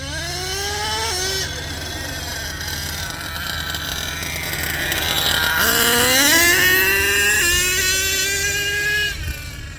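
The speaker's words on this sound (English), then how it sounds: "That could very well be third gear." HPI Savage 3-speed gearbox running in third gear, a loud close whining drive that climbs in pitch, drops, then rises again to a higher sustained whine before tailing off.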